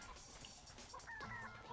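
Chickens cluck briefly and faintly in the Ratchet & Clank video game, a few short calls over quiet background.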